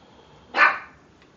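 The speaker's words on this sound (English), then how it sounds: "I do apologize for my dog barking there." A single dog bark in a home workshop, one short sharp yelp heard at moderate distance against a quiet background.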